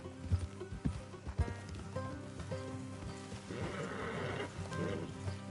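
Horses clip-clop and shuffle close by, with a few sharp hoof knocks early on, then a fuller rustling texture over ambient background from the video game Red Dead Redemption 2.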